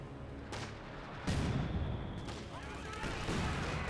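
Mortar barrage in the Company of Heroes 2 real-time strategy game, several heavy explosions landing one after another over a layer of battle noise and gunfire.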